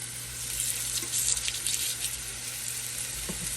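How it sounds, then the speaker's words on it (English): Steady, continuous sizzling of pork chops frying in a hot pan, a dense crackling hiss with a low hum underneath and no talking. "that's what I want to hear, that sizzle"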